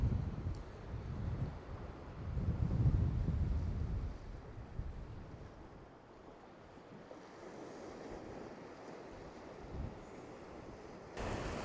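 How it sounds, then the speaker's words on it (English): Strong wind buffets a microphone on the Northumberland coast during a cod fishing competition, with surf rolling in; broad roaring gusts swell loudest early, then ease to a steadier rush with occasional thumps, no voices. "the wind is really picking up now"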